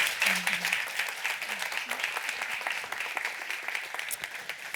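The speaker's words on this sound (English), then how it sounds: "Give them a round of applause." Audience applause for four panel speakers at a Nordic resilience panel discussion, a steady dense clapping that fills the whole stretch at moderate loudness, with a little faint talk underneath.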